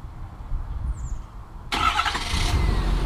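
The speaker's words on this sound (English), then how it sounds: "we've got remote engine start." A low rumble idles, then at once a loud broadband roar kicks in as a 2016 Ford F250 6.7L diesel pickup is remote started, holding steady, close by, with no talking.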